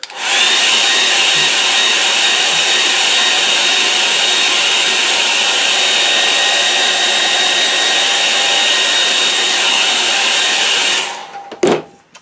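A hair dryer blows steadily and loudly on a watercolour sky painting for about eleven seconds, then cuts off abruptly, leaving a brief clatter.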